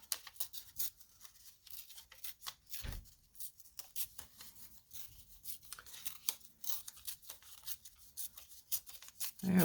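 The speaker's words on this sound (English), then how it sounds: "tear this up a little bit" Paper torn up by hand for a junk journal, giving quiet, irregular rustling and ripping bursts in short strokes, close by, with no talking.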